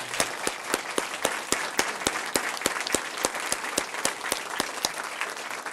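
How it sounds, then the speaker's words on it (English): Audience applause for a school district Board of Education: a steady wash of crowd clapping with one loud nearby clapper striking a fast, regular beat throughout. "let's give them a big round of applause"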